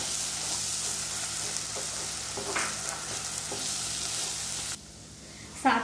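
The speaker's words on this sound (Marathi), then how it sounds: "आता ह्यामध्ये मी हे तयार पेस्ट घालते। ही व्यवस्थित परतून घ्यायची आहे तेल सुटेपर्यंत।" Green masala paste frying in oil after golden-brown onions for mutton sukka: a continuous loud sizzle with occasional spatula scrapes, dropping quieter near the end before a final clink.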